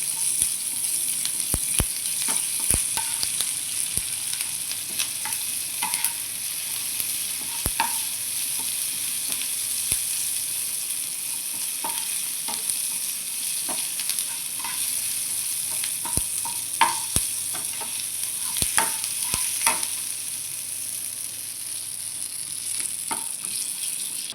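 Mustard seeds and dried red chillies crackle in hot oil for a buttermilk curry tempering, a steady close frying hiss dotted with sharp, irregular pops from the seeds, with no speech.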